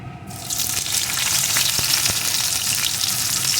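Chopped onion hits hot oil and tempering spices in a pan for a koi fish and eggplant curry, setting off a steady, loud, close hiss of frying that holds evenly throughout.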